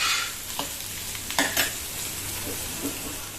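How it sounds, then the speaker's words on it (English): Steady sizzling of onions and potatoes frying in a pan on low flame, with a few soft scraping stirs, close by and without talk. "Just keep on frying them on low flame."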